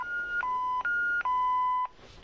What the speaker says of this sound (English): Hate that beeping noise, mate.